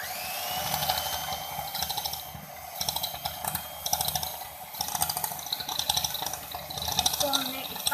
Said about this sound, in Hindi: अब बीटर से इसको बीट कर लेंगे